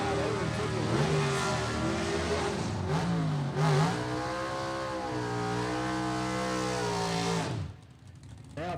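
Gasser drag race car at Gulfport Dragway launching down the dragstrip, a loud sustained engine roar with rising and shifting harmonics for several seconds, then cutting off abruptly near the end.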